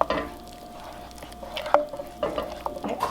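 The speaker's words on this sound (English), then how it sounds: "Stir that in." Cooked pasta being stirred into cheese in a hot pan, with soft sizzling and a few sharp scrapes and clinks of a utensil against the pan, close and alone.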